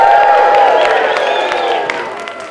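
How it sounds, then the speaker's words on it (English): A crowd at a Ruby conference cheers and whoops together on request, a loud, dense wash of voices that holds steady and then slowly fades over a couple of seconds. "How about hearing a cheer?"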